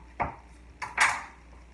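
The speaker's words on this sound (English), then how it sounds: "And I'm going to get out my pan." A cooking pan is pulled out for stir-fried pork, giving three quick metallic clanks and knocks close by, a single hit and then two rattling bangs, with no speech.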